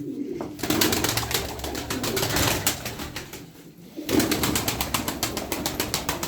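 Pigeons coo repeatedly in a loft amid a steady flock murmur, with a busy, continuous bed of bird sounds and occasional sharper calls throughout.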